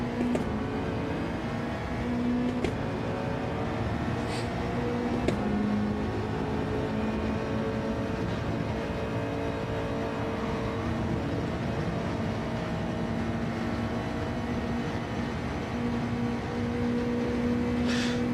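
Racing car engines in a Gran Turismo-style Gr2 sim racing league, a stock car droning steadily for the whole stretch with shifting pitch as it runs laps, loud and continuous with no talk.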